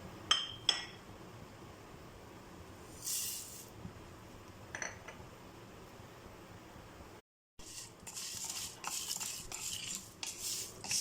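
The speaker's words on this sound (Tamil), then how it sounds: "இதெல்லாம் ஒரு கடாயில் போட்டு லைட்டாக ஃப்ரை" Cinnamon, cloves, cardamom, pepper and cumin are dry roasted in a kadai: soft scraping and stirring with occasional metallic clinks against the pan, mostly quiet and intermittent, with a busier patch of scraping toward the end.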